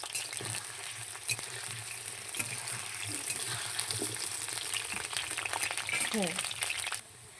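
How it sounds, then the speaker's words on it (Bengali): Potato pieces frying in hot oil in a home kitchen, a steady crackling sizzle with small pops and scraping stirs throughout, fairly close. "এরপরে আলুগুলোকে বেশ লাল লাল করে ভেজে নিতে হবে।"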